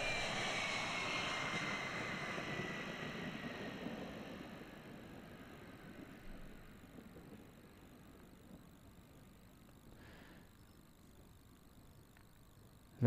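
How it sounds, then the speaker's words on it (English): An Osprey aircraft drones overhead as a broad engine roar that is loud at first and then slowly fades as it moves away, with a faint whine above the rumble. "with an osprey, you'll hear it before you see it"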